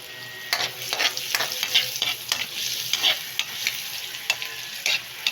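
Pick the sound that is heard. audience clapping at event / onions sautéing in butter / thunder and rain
onions sautéing in butter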